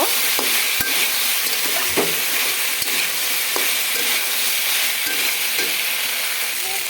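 Potatoes and papaya in a vegetable curry stir-fried in a pan, giving a steady broad sizzle with a scrape of the spatula every second or so, close and continuous, with no talking.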